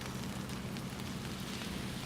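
Wet, snowy rain falling in downtown Toronto after a snowfall, a faint, steady crackling patter with a low urban rumble underneath.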